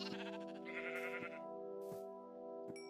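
Sheep in Minecraft bleat in a few short, wavering cries over steady melodic background music, fairly close and clear, with no talking.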